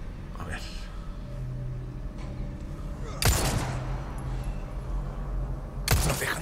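Pistol shots ring out in Resident Evil 4 Remake, two sharp loud bursts a few seconds apart over a low game ambience with quiet talk underneath.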